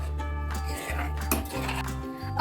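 Spoon scraping and stirring a corn flour slurry paste in a pan for Gobi Manchurian, close soft clinks and scrapes over a steady low hum, no talking.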